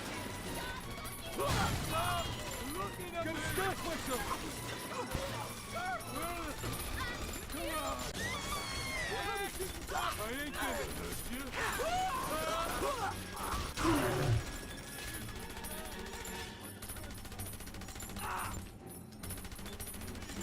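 Automatic turret gunfire in the video game Bioshock 2, rapid bursts and crashes mixed with game effects and music, with someone talking over it throughout.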